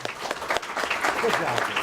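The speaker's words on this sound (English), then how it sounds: "I want to give them a round of applause" Audience applause for two instructors at a student logo reveal event, a steady patter of clapping from a modest crowd lasting under two seconds, with a voice briefly audible over it.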